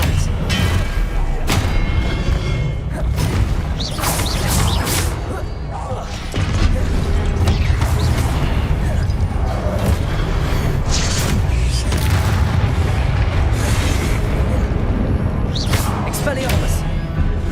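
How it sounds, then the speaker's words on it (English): Expelliarmus spell blasts in Hogwarts Legacy land as repeated booming thuds and crashes, mixed with steady game noise while a person talks over much of it. "Expelliarmus!"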